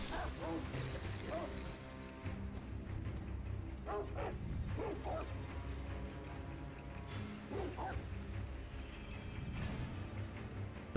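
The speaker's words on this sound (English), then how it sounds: "Dogs are barking like, oh look," Dogs barking in the video game Sekiro: Shadows Die Twice at Hirata Estate, with repeated mid-distance barks and yips spread through the scene over game ambience and occasional clashing impacts.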